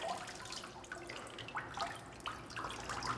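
Water drains and drips from a papermaking mould lifted out of a vat of pulp during hand papermaking, giving a steady close trickle broken by scattered drops, with no voices.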